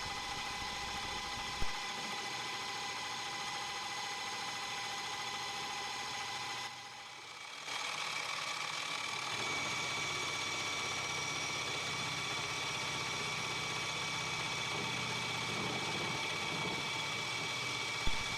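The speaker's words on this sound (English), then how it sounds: "Now you can see from the thicker chip being produced that this is a heavier cut." A boring head makes a heavy cut in 6061 T6 aluminum, a steady machine hum with a faint high cutting whine running throughout, briefly dipping midway before resuming evenly.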